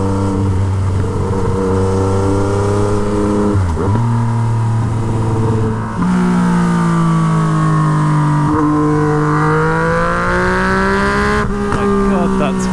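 A Yamaha MT-09 motorcycle with a straight-pipe Toce exhaust revs loudly and close by, its pitch climbing and dropping through several throttle blips with sharp dips between them, while a voice talks over it.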